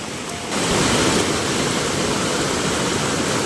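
Floodwater in a village river in Konkan surges after torrential rain, a loud, steady, close broadband roar of rushing water that swells after the first half second and holds without a break.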